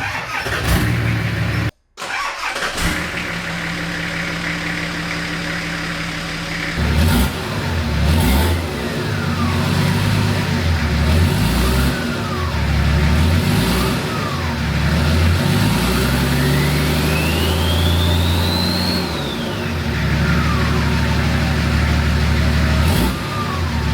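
Car engine cranks and starts, then revs repeatedly up and down in loud surges close by, settling between rises, no talking.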